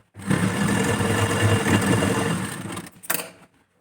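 Sewing machine stitching a blouse runs in one steady, continuous burst of close, loud mechanical whirring for about three seconds, then stops with a brief click and rustle.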